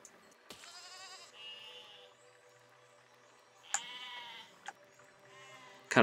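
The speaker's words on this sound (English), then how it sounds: "I can run over sheep." Sheep bleating in the medieval building game Besiege, several clear, close bleats in succession, each wavering call separated by brief pauses, with a few sharp knocks between them.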